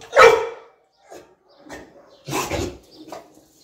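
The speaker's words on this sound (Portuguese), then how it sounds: "Ele tá escutando os cachorros latindo do outro lado." Dogs bark in a neighbourhood street setting, a loud burst of barking followed by fainter scattered barks and a second strong cluster, coming from somewhat off at a distance with no talking over them.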